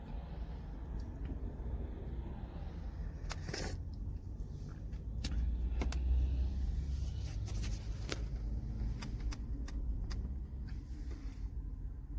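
Car driving through slow traffic in Riyadh, Saudi Arabia, with a steady low engine and road rumble that swells in the middle, plus scattered faint clicks and taps inside the cabin.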